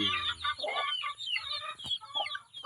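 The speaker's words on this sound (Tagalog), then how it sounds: "Ayan po yung mga manok ko mga idol." Several chickens cluck and chatter continuously close by, overlapping calls rising and falling with a faint background hum.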